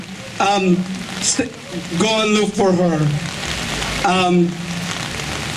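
Steady rain hisses and patters throughout an outdoor rally, heard under a loud, close voice speaking in several bursts.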